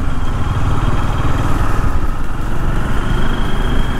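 Motorbike engines idling and puttering on a street in Thane, a steady close mechanical drone with clattery low rumble throughout, no voices.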